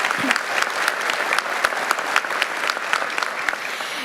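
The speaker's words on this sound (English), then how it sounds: "so please give him an applause" Applause for a pastor at a graduation ceremony, sustained crowd clapping with a steady dense texture and scattered sharper claps, moderately loud and continuous throughout.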